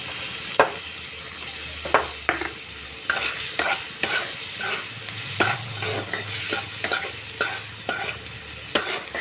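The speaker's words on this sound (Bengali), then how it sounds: "জিরে গুঁড়ো, লঙ্কা গুঁড়ো, হলুদ গুঁড়ো আর নুন দিয়ে এবার ভালো করে মশলাটাকে কষিয়ে নেব" Spice masala of cumin, chilli and turmeric powder with salt and chopped tomato stir-fried in a pan: steady soft sizzling under repeated scraping and stirring strokes of a spatula, close by.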